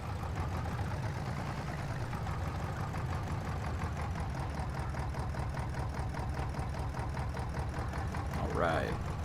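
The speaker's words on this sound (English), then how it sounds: "There you go, little tractor." A tractor engine in the video game Farming Simulator 22 idles with a steady low, rhythmic chug, close and even throughout, with a brief rising tone near the end.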